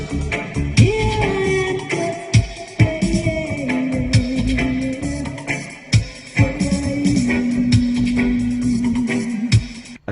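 A sampled excerpt from a late-1980s record, heard as a busy, steady stretch of music with sliding tones and sharp percussive hits over ten seconds, and no talking.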